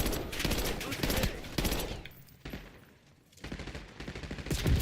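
Gunfire in the Call of Duty Black Ops 6 video game, with a sniper shot among it: sharp, loud bursts of shots crowd the start, ease into a brief lull, then pick up again near the end.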